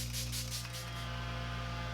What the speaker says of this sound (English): And then a little Milani Make It Last setting spray.